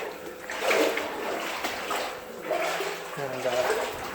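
Footsteps splashing through boot-deep water along rail ties in a mine, a few irregular sloshing steps close by with trickling and dripping, fairly faint.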